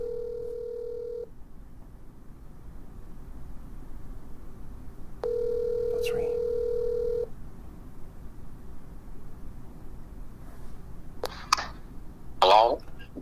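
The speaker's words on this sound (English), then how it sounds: "Answer your phone, Darnell." Ringback tone of an outgoing phone call to a Craigslist car scammer: two long steady purring rings heard over a quiet line, separated by a pause, followed by faint brief voice sounds near the end.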